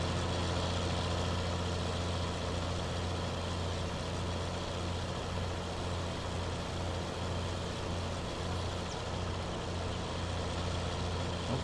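A tractor engine idles steadily in Farming Simulator 19, a low continuous rumble with a constant hum that holds at an even level throughout, with no talking.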